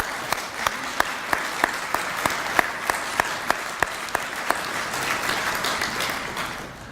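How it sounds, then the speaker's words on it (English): A graduating class applauds its faculty at a graduation ceremony. Steady crowd applause is punctuated by sharp, loud individual claps at a fairly regular beat, then softens toward the end. "Class, please join me in a round of applause for our faculty today."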